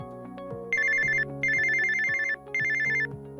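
A telephone rings during a call: an electronic ringtone sounds in three bursts over a repeating tone pattern, clear and close, with no talk.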